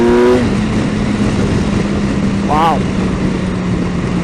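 A 2018 BMW S 1000 XR motorcycle engine under way, a steady droning tone after a quick shift at the start, mixed with rushing wind, while a rider exclaims briefly.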